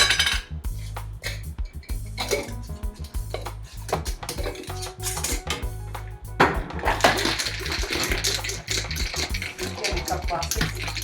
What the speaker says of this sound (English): So now I'm going to put several ice cubes in here because I'm going to shake it up.